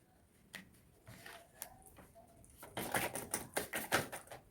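Tarot cards being drawn and laid out during a reading, heard as a run of soft, close flicks and papery snaps, sparse at first and then a quicker, louder burst of shuffling taps.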